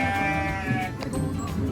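Goats on a farm in Suan Phueng, Ratchaburi bleat over a dense, continuous chorus of overlapping animal calls, close and loud, with no talking.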